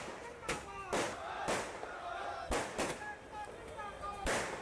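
Firecrackers set off at a bar association celebration over a new court in Kotputli, sharp bursts cracking roughly every second with crackling between them, over a busy crowd background.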